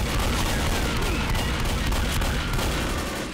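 A shotgun roars in Left 4 Dead, part of a dense, loud barrage of blasts and booming game combat filling the short moment without talk.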